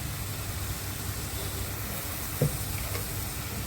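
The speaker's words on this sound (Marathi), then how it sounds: "म्हणजे कांदा चांगला परतला जातो" Chopped onion frying with salt and a pinch of asafoetida, a steady low sizzle of cooking in a pan with one brief scrape or clink midway, heard close with no talk.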